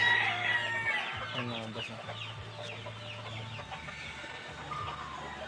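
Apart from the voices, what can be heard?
young gamecock stags clucking while being bathed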